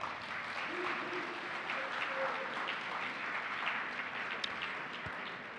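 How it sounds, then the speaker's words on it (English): Sustained applause fills a conference room at an aging and disability technology summit as the audience claps for standing guests, a steady dense wash with faint voices mixed in. "And a round of applause."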